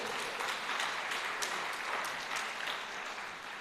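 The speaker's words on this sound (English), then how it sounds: "Give yourself a round of applause." A room at a district awards function breaks into dense, continuous applause, a steady wash of many hands clapping together at moderate loudness with no voices over it.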